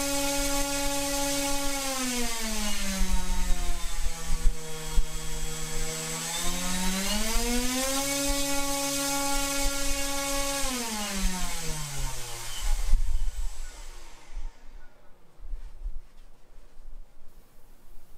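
Emax GT3520/05 brushless motor spinning a propeller on a thrust test stand, a loud whining hum that climbs, dips and rises again in pitch before cutting off and winding down near the end.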